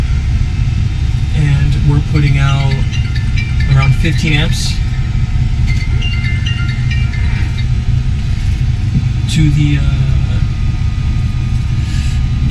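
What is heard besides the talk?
Four Winns V255 boat engine idling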